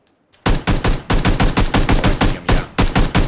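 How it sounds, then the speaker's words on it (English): Rapid automatic gunfire from a weapon in the PUBG battle royale game, about a dozen loud, close bursts in a fast steady rhythm after a brief quiet start. "He's shooting the guys I was talking about."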